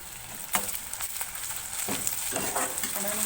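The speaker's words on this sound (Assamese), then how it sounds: "আদা নহৰুখিনি গোন্ধ নাইকিয়া হোৱালৈকে মই ভাজি থাকিম।" Ground ginger and garlic paste fries in a pan with browned onions, giving a continuous crackling sizzle broken by several scraping stirs of a spatula.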